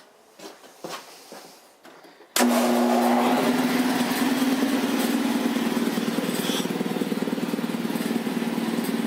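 A 1960s Quincy 230-32 air compressor driven by a 3 hp Dayton Dyna motor starts up abruptly after some faint handling noises, then runs loud and steady with a constant pumping hum close by.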